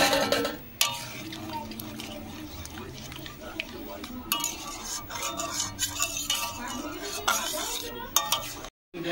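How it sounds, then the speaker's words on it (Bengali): A spoon stirs and scrapes through a pot of thickened milk mixed with a cornflour mixture for ice cream. The utensil knocks and clinks irregularly against the pot, while someone talks over the stirring. "এবার কর্নফ্লাওয়ার মেশানো দুধটা দিয়ে দেব, দিয়ে খুব ভালোভাবে মিশিয়ে নেব।"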